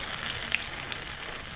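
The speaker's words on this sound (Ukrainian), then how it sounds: "І підсмажую також, як звичайні оладки з двох боків до такого золотого кольору" Chicken fritters with herbs fry in hot oil, giving a steady soft sizzle and crackle. The sizzle is moderately loud and ends in a brief sharp tone.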